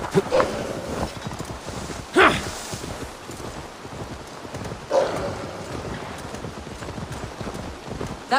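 A horse's hooves clip-clop in Assassin's Creed Valhalla, a few sharp hoof strikes spaced apart over a rough, low outdoor ambience.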